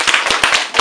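Scattered hand claps from a small audience at a university politics society EU debate, a brief run of close, uneven individual claps rather than a full round of applause.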